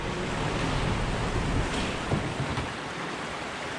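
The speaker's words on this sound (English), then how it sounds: "South Anna River, six plus feet today" The South Anna River, swollen past six feet, rushes in a continuous broadband roar close by, a dense surf-like wash with some wind buffeting throughout.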